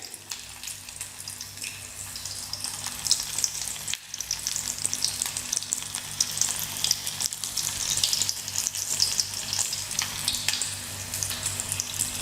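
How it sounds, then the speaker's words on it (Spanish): Food fries in hot oil with a dense, steady sizzle and crackle, loud and close throughout, briefly dipping for a moment before the frying resumes just as strongly. "Y lo vamos a llevar a fritura."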